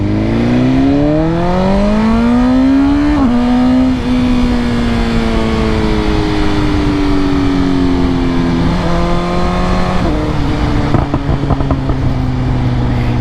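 A 2022 BMW S1000R M Package motorcycle fitted with Arrow headers and an Akrapovic exhaust revs hard and close, its pitch climbing, dipping and rising again through several sweeps over a constant loud roar.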